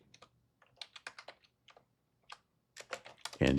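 Rapid bursts of computer keyboard typing in irregular clusters of keystrokes, close and crisp, with a louder clatter at the very end and no talking.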